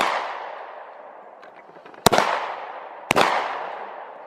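Gunshots are fired at a target outdoors. Two loud, sharp cracks come about a second apart, each ringing off in a long echoing decay, after the fading tail of an earlier report.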